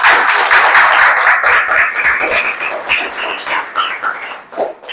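Loud, sustained applause from a school audience greeting a student during a maths class, dense clapping that gradually thins and fades toward the end.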